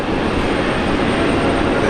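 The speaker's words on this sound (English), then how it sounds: "There she goes. Listen to those engines." Airliner jet engines roar steadily and loudly through a takeoff roll at Brisbane Airport, a dense continuous rumble with no voices.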